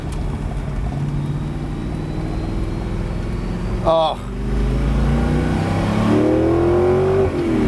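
A 2006 Spyker C8 Spyder with its Audi-derived engine accelerates, a loud steady engine drone rising in pitch near the end, with a brief exclamation from a person in the cabin partway through.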